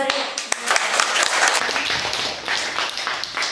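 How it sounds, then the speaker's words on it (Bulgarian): Applause for schoolchildren after their performance at a school event, dense clapping with a few sharp individual claps standing out, loud and close, with some voices mixed in beneath. "аплодисменти за вас"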